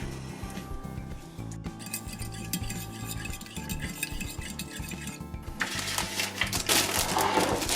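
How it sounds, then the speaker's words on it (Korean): Eggs and a little sugar are mixed for French toast, with a steady run of clinking, tapping strokes against a bowl that grows louder and busier toward the end. "섞으면 되는 거잖아"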